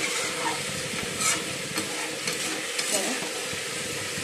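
Chicken kosha sizzles and fries in a pan while being stirred, a dense, steady crackle close by with occasional scraping clinks of the spoon against the pan, no voices.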